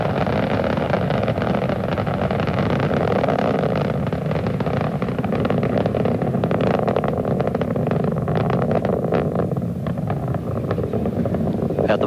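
Space Shuttle Columbia's three liquid-fuel main engines during launch ascent, a steady, loud, dense rumbling roar that holds constant with crackling texture throughout.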